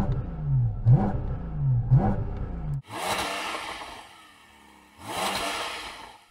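Porsche GT4 RS engine revving hard inside the cabin, a loud rhythmic rise and fall of intake roar at first, then two broader bursts of harsh, noisy engine sound separated by a quieter gap.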